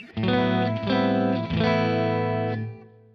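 Electric guitar played through a clean Marshall amp with a touch of natural reverb: three sustained strummed chords ringing out one after another, the last fading away.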